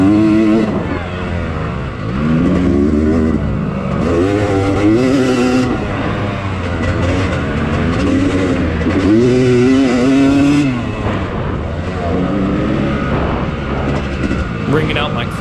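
Two-stroke dirt bike engine of a following rider on a slick scramble trail, droning and revving loudly and continuously with rising and falling pitch, mixed with the camera rider's own engine.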